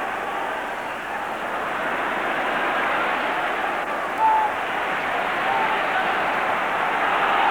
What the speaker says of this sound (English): Crowd roaring Liverpool to make extra time unnecessary.